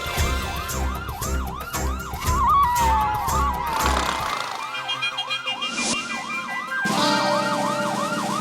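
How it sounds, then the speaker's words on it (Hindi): A wailing police siren cycles steadily, loud and close, with a second higher siren tone joining briefly midway over a low engine rumble. "गोकुलधाम सोसाइटी में पुलिस की सायरन की आवाज।"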